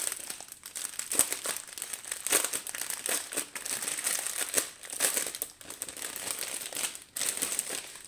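Plastic packets of diamond painting drills are opened up close, giving continuous crinkling and rustling with occasional sharper crackles, steady and fairly quiet with no talking.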